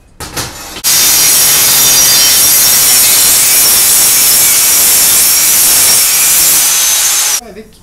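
A wooden handrail piece is being sawn in a workshop: a loud, steady, hissy rasp of the blade continues for about seven seconds before it stops.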